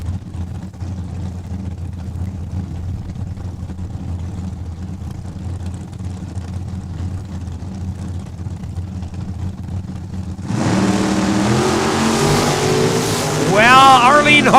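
A drag racing car launching at Saskatchewan International Raceway in Saskatoon, a low idle rumble suddenly jumping to a loud roaring engine, with a rising whine from revving near the end.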